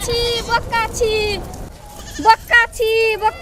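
A goat bleats in a rural village, several wavering nasal bleats in two bursts, close and loud, separated by a brief quiet gap.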